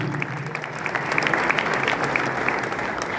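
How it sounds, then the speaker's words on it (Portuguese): A church congregation at a pastors' council meeting in São Paulo claps steadily throughout, a dense, even roomful of applause with no speech over it. "Dê uma salva de palmas."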